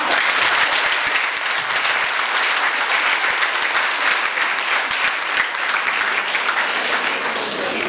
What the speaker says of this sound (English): We give a big clap to Thomas.